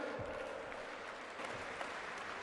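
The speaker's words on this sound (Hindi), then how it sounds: "सुशील गुप्ता जी हमारे बीच में सबसे ऊंची तालियां वो बजा रहे हैं" Applause from a political party conference audience, quiet and distant, a steady wash of many hands clapping throughout with faint cheering.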